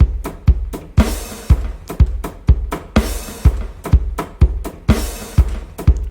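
Keyboard-drumming beat with a snare struck together with an open hi-hat, a steady loud pattern of sharp kick-and-snare hits and washy cymbal bursts repeating over about six seconds, no voices.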